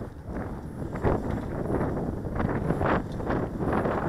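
Wind blows outdoors during a 3D-printed tricopter flight, a steady, loud, rushing buffet against the microphone with gusty swells and no speech.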